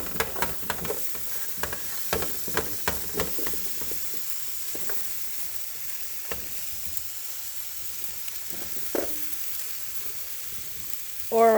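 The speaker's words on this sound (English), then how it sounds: "Already sizzling." Food fries in a pan with a steady, soft sizzling hiss, punctuated by scattered clicks and scrapes of stirring, heard close with no voices.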